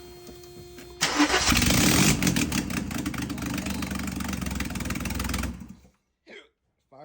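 A 1989 Mercedes 300E with the M103 engine cranks briefly, then catches and roars to life loudly, settling into a steady idle for several seconds before cutting off, followed by brief voices.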